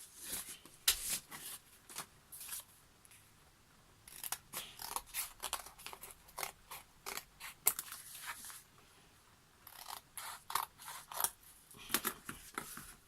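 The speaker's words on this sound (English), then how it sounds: "I just want to trim that off a little bit as well." Scissors trim the edge of paper for a concertina sketchbook, quiet close snips in quick bursts with short pauses between them and no voices.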